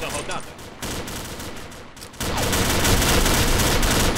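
Gunfire from a weapon in the online shooter Combat Arms, sustained rapid automatic shots, first moderate then jumping to a louder, denser stream of fire partway through.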